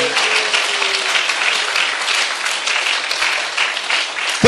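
A lecture audience breaks into loud, dense applause, a continuous roar of many hands clapping that holds steady throughout without talk.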